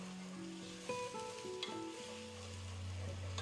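Bay leaves stirred in a hot pan, with a steady sizzle and light scraping and clinks of the spoon throughout, close and moderately quiet, and no voices.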